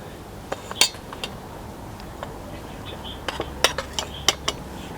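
A metal spoon clinks against a bowl in scattered light taps, a few sharp close clicks while salt is added to pakora batter at an outdoor cooking setup, no talking.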